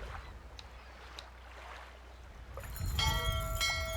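A small bell rings in the game Syberia, several bright metallic strikes with ringing overtones arriving late over a quiet watery ambience after faint earlier taps.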